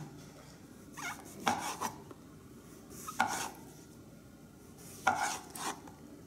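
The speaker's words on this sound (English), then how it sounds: "So you want to slice it thin." A knife slices a portobello mushroom thinly on a board, three soft scraping strokes, each ending in a light tap, spaced a couple of seconds apart against quiet room tone.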